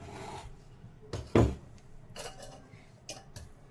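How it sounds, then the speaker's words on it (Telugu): A steel bowl and strainer are set down on a kitchen counter before straining, giving a few close, sharp metallic clanks and taps scattered over a few seconds in a quiet room. "చక్కగా ఇలాగా గిన్నె ఒకటి తీసుకొని వడజల్లెడు పెట్టుకొని దాంట్లోకి మనము చక్కగా మొత్తము వడగట్టుకుందాము."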